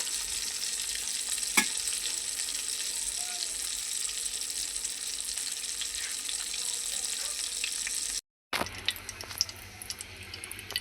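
Fish frying in a pan for a breakfast of fried fish and rice gives a steady, fairly quiet sizzle throughout, with one sharp clink early on and a brief dropout near the end.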